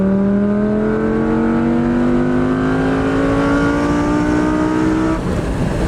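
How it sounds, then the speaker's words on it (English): Naturally aspirated 520-horsepower V10 of a Lamborghini Gallardo pulling hard under full throttle, a loud, close engine note rising steadily in pitch for about five seconds before the revs drop off. "here's some 520 horsepower V10 Lamborghini"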